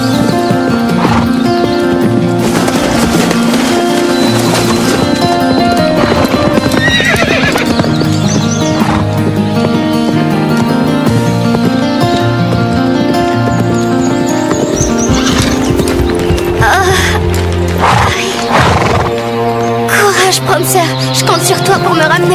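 Horse hooves clip-clop steadily during riding, with neighs and whinnies breaking through amid a dense, loud layer of music and voices that keeps the hoofbeats partly buried throughout.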